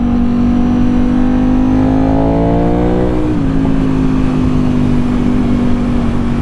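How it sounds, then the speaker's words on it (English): A 2025 Ducati V4S motorcycle cruises at steady speed during break-in riding, its engine droning continuously with a brief rise and dip in pitch midway, loud and close with constant wind noise and no talk. "Just off for a cruise, doing some break-in miles on the Ducati, this 25 V4S."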